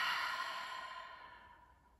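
During a solar plexus chakra meditation, one slow, deep breath is heard close and clear, starting strong and gradually fading to quiet.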